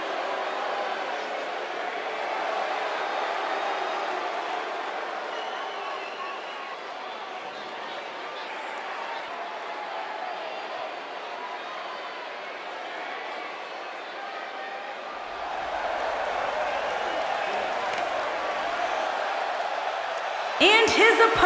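Arena crowd in the wrestling game WWE 2K18 roars continuously in a dense, distant wash of cheering and chatter that grows louder near the end, with commentators talking over it.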